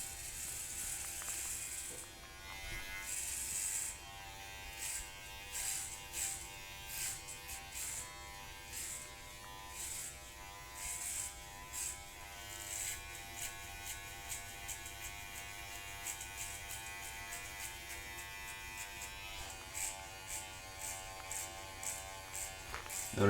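Electric hair clipper with a 1.5 guard, lever closed, buzzing through hair during a self-administered buzz cut taper fade, a close, steady hum with rhythmic crackling pulses as it passes over the head, no talking.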